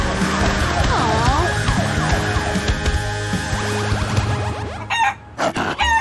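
A giant cartoon chicken clucks and crows loudly amid swooping cartoon sound effects and music in a kids' animated rescue show, ending in a few choppy bursts.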